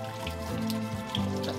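Grit and water slosh and rattle inside an old Victorian glass bottle being shaken, a close, continuous watery churning with small irregular clinks.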